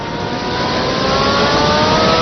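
Jet car built around a 22,000 horsepower engine salvaged from a Navy F-3D Skynight, giving a loud, steady, broadband roar that holds constant with no pauses or talk.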